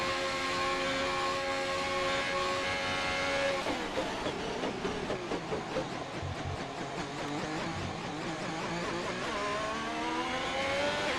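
F1 race car engines revving in a racing video game: several high, whining engine tones overlap and shift pitch, with a dense burst of stuttering, rapidly changing revs in the middle and steady whines around it.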